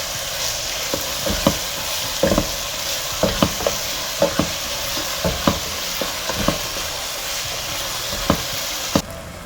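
Mint and whole spices fry in hot oil in a pan for ghee rice, giving a continuous sizzle broken by a string of sharp clacks from a spoon stirring against the vessel.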